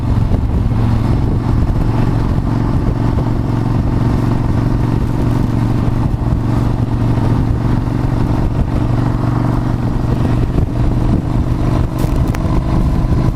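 Motorcycle engine while riding: a constant loud, droning engine rumble with road and wind noise, holding steady throughout with only slight variation and no talk.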